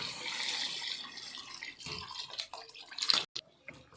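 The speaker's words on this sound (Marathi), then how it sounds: "त्याच्यामध्ये आपण हे भाजी शिजलेलं पाणी टाकून घेऊ" Vegetable cooking water poured into chicken sizzling in masala for biryani, a broad splashing, hissing pour with a louder burst near the end before a brief break.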